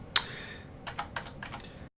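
An old computer keyboard gets typed on, one sharp loud key strike followed by a quick cluster of softer clicks, close and alone before sudden silence.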